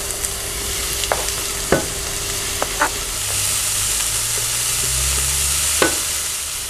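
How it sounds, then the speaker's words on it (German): Onions fry in a Dutch oven with a steady broadband sizzle, broken by a few sharp spoon scrapes and clinks as they are stirred, close up with no talking. "Jetzt braten wir unsere Zwiebeln an."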